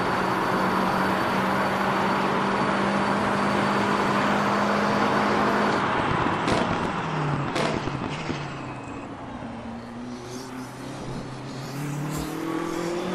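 A BMW M6 GT race car in a racing video game, running an ADAC GT Masters round at the Nürburgring. The engine roars steadily and loudly, then revs dip and shift sharply around the middle before settling into a lower, fluctuating drone.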